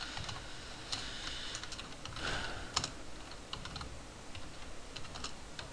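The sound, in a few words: typing on a computer keyboard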